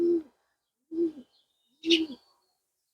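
Three low, soft cooing calls spaced about a second apart, each a short throaty phrase, close and clear with quiet gaps between.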